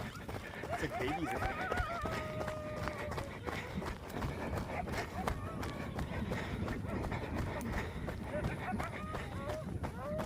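Coyotes howling faintly in the distance, a few thin wavering yips and wails heard under the rhythmic thud of running footsteps and the runner's breathing.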